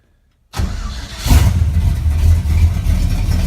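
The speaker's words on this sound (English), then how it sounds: "let me see if I could maybe start it up here" A cold 1965 International Scout 800 engine cranks and catches, then settles into a loud, rough idle with deep exhaust rumble, close and alone.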